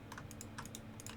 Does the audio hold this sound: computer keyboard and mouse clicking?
yes